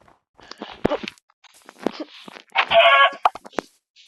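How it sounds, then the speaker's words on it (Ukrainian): Several short, sharp clucks from a chicken in the game Minecraft arrive in quick bursts with brief gaps, fairly close and clear, no talking. "О, куркочка."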